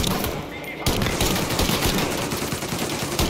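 Dense, rapid gunfire crackles continuously after a brief lull, loud and sustained like a heavy firefight, in the video game Mafia: Definitive Edition.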